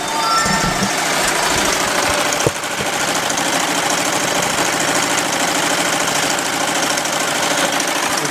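A multi-needle embroidery machine stitching at high speed, around a thousand stitches a minute: a dense, steady, loud mechanical clatter and rapid knocking hum that runs without a break, with one brief clunk partway through.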